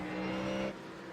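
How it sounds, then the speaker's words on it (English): Ford Mustang GT3 race car engine heard onboard at Daytona, a loud steady high-revving drone that drops in pitch and level near the end as the throttle eases. "Good sounding car, isn't it, that running on board?"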